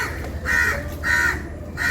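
Hungry crows caw outdoors near a spot where food is being cooked, giving three harsh, evenly spaced calls against a low background rumble.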